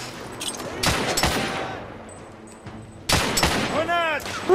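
Gunfire in The Order: 1886, several sharp shots bursting out at moments with ringing echoes and tails, over game ambience, with a voice speaking in between.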